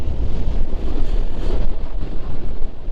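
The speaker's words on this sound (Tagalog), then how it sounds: "Sarap na simoy na hangin," Steady loud wind rushes over the microphone while riding a Honda Click 125i scooter on an open road, a continuous close buffeting roar with no talk.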